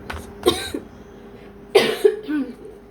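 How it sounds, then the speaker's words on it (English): Two close, sharp coughs, the second a short double burst followed by a softer throat-clearing sound. "Please forgive me with the coughing."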